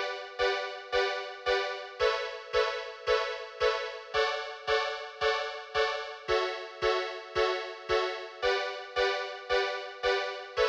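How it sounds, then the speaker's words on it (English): Analog string machine pads from a late-1970s to early-1980s collection, played as steady quarter-note pulses: a bright, layered chord re-struck evenly about twice a second, each hit swelling and fading, with occasional chord changes and no voices. "This is a collection of analog string machines from the late 70s, early 80s, and it sounds like this."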